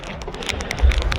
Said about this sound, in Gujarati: પવન છે ફૂલ ભેગો વરસાદ પણ છે વરસાદ હવે વધતો હોય ધીરે ધીરે